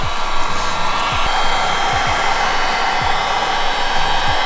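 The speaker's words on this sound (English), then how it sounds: "So yeah, we're just going to keep heat gunning it." A heat gun blows a loud, steady, close-up whoosh while heating wrinkle paint on the valve covers of an AE86, with no talking.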